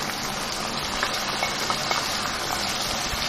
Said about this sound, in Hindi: अब मैं ये मसाले इसमें ये डालूंगी सारे, और इसकी भुनाई करूँगी।